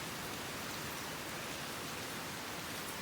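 Moderate afternoon rain falls steadily in a continuous even hiss, with no talk over it.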